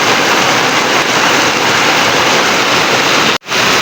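Heavy rain falls during a farm harvest in bad weather, a dense, loud, steady hiss without pause, ending with a brief cut near the close.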